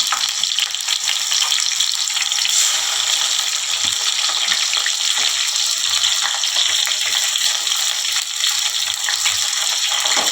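Garam masala and onions fry in hot oil for a village-style Telangana chicken curry, giving a loud, continuous hiss and crackle that stays even throughout.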